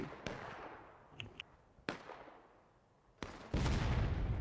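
Union artillery firing in a Civil War-style video game: a handful of sharp, separate booms spaced irregularly, some distant and some close, ending in a louder sustained rumble, with no voices.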